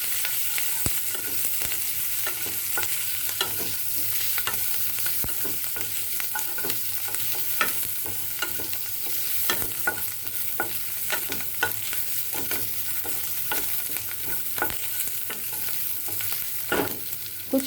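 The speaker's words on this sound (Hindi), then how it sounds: "जीरा तड़क रहा है, साथ साथ डाल रही हूँ प्याज।" Cumin seeds and onions fry and crackle in a kadhai for kadhai paneer, a steady close sizzle broken by frequent sharp spatters and the scrape of stirring throughout, with no voices.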